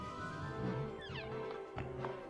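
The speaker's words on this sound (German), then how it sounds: "Oh mein Gott, ein Kätzchen." Kitten meowing in the video game Kingdom Hearts Dream Drop Distance, a couple of short rising mews over steady in-game music and background sound.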